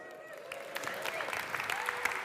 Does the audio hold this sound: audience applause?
yes